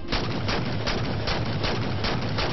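Dense, continuous gunfire and shotgun blasts from a Halo 4 Spartan Ops firefight: loud and close, with rapid rhythmic bursts and no pauses throughout.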